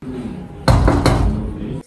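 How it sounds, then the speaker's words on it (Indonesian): Someone knocks at a door in an Indonesian Cinderella drama, giving three quick, loud, close raps over a low background murmur. "terdengar suara ketukan pintu"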